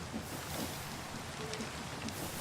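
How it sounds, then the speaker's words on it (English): Rain in the Minecraft video game, a steady, even patter and hiss of falling drops at moderate volume, heard alone without talk. "God bless this stupid rain."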